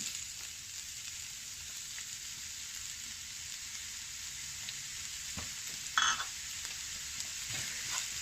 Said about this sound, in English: In a hot pan, sweat down half a diced onion.